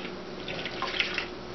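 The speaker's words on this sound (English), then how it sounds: "we're going to pour 1/2 cup of warm water into the bowl" Warm water pours from a measuring cup into a mixing bowl for a homemade polymer putty recipe, a soft, steady trickle and splash lasting about a second and a half with no talking.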